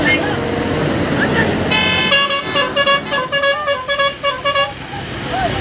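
Traffic jammed on a bridge where a truck broke down: vehicle horns toot in repeated short blasts over the rumble of bus engines and road noise, loud and close.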